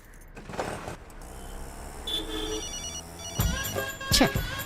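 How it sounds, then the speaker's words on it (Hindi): A phone rings in bursts over a running auto-rickshaw engine, with a couple of louder electronic trills toward the end. "फिर से फोन कर रही है"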